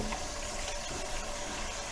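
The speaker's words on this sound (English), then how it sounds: "Just washing my hands with a little soap and water" Running tap water rushes steadily and close over hands being washed with soap at a sink, a continuous hiss with no voices.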